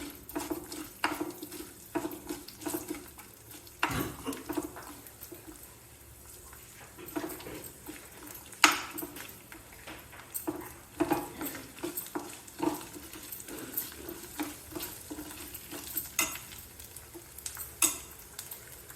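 A telagapindi curry cooks in oil while a spoon stirs it, scraping and clinking against the pan in an irregular rhythm over a soft, continuous sizzle.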